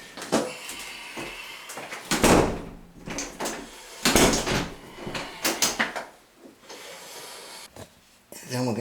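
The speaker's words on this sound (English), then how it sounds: "We're going to test the door for proper function." A wooden interior door in a repaired, previously kicked-in frame is opened and closed several times, with swishes, latch clicks and soft thumps close by, mixed with shuffling and handling noise.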